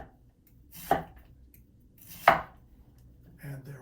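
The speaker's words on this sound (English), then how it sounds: "when you chop it, it automatically becomes chiffonade" A kitchen chopping knife cuts rolled leaves into chiffonade on a board, making two distinct, sharp chops more than a second apart, close and crisp, with a faint softer knock afterward.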